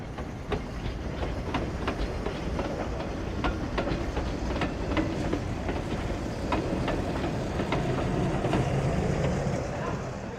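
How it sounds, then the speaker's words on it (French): A train rolls past close by at a mountain station on the Furka steam railway line, its wheels clicking over rail joints in a steady, regular rhythm, with a low continuous rumble beneath. "Regardez, voici déjà le train de Gletsch."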